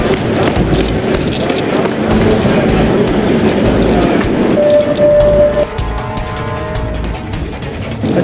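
A train in Barcelona rumbles along the rails with a loud, steady roar and rhythmic low thumps, a brief tonal squeal rising midway as the ride continues.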